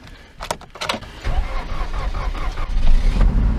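A Toyota engine cold-starts in frost around -37°C: it cranks and catches after a couple of sharp clicks, then settles into a rough, low idle that grows steadier and louder.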